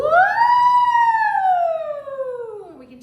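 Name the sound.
voice imitating a siren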